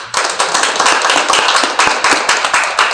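Audience clapping at a year-end anti-nuclear seminar in Korea, a brief burst of steady, dense applause from a small crowd lasting about three seconds, close and fairly loud with no talk over it.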